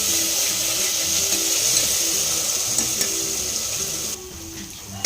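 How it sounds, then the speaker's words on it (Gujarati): Onions sautéing in a pan over low heat give off a steady soft sizzle and faint crackle, continuous and close, with no talking. "પછી આને ધીરા તાપે સાતરી લેવાનું છે"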